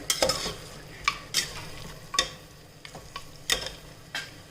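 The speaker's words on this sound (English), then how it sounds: "I'm going to fry it nicely" Mutton frying in a pan with chili powder, a close, steady sizzle punctuated by about six sharp, rhythmic scrapes and clacks of a spatula stirring against the pan.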